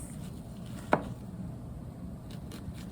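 A single sharp knife chop through an onion on a cutting board, one crisp close cut against a quiet kitchen background.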